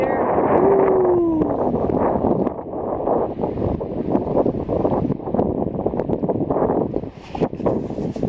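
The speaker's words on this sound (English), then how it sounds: "this wind is brutal out here. It's really blowing strong, and it's picking up" Strong gusting wind on a lake batters the microphone with heavy, rumbling buffeting that surges and dips in rough pulses, loud and close throughout.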